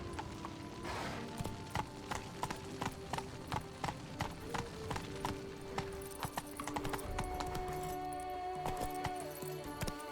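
Horse hooves from The Witcher 3: Blood and Wine beat out a steady, close clip-clop at a quick gait, with a soft whinny-like tone and light mechanical clicks in the background.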